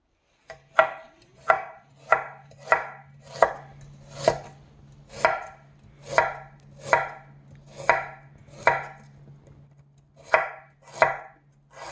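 A knife slices fresh new-season ginger on a cutting board into thin pieces in a steady series of sharp, close chops, about a dozen evenly spaced, with no voices.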